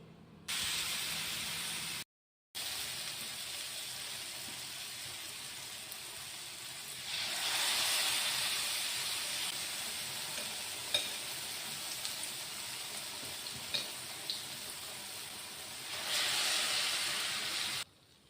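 Pazham pori, thick banana fritters, sizzle and hiss in hot oil for a long stretch, with the frying swelling louder at times and a few soft clicks and pops, steady and close.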